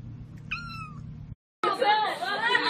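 A cat meows once in a short, rising-then-falling cry over a low background hum, followed after a brief silence by louder, busier sound with voices.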